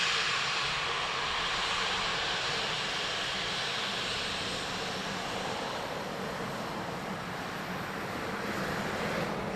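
An Aer Lingus airliner arriving from Amsterdam at Dublin Airport makes a sustained broad engine roar with a hissing wash, loud and fairly close, fading only slightly across the clip.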